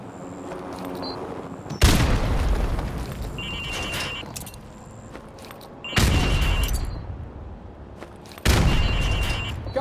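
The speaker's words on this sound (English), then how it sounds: "Now throw a grenade into windows 2, 3, and 4." Three loud grenade explosions go off a few seconds apart in Call of Duty: Modern Warfare Remastered, thrown into windows at a demolition training range, each a sharp broadband blast that trails off slowly.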